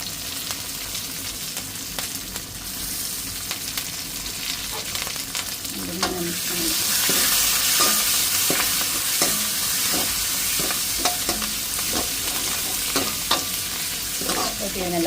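Shallots, green chilies and curry leaves frying in hot oil in a pan, with steady close sizzling that swells louder midway and repeated scraping stirs of a spoon.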